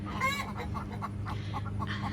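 Brahma and Leghorn hens cackle their egg song, a faint cluster of rhythmic clucks and squawks rising and falling over a low background hum.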